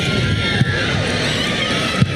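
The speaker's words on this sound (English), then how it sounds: "The UST crowd trying to get their team back into this one." UST fans cheering at a women's volleyball game against FEU in an arena, a dense, steady crowd roar that runs throughout, with occasional sharper bursts.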